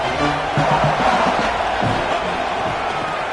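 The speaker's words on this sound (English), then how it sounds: "This crowd knows when to bring it." A big football stadium crowd roars and cheers during a game, a loud, sustained wall of voices with shouts rising and falling throughout.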